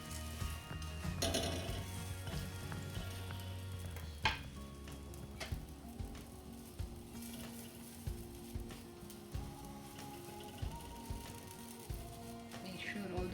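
A paratha frying in ghee on a hot pan gives a soft, low sizzle, broken by scattered scraping and tapping sounds of handling, with faint talk in the background.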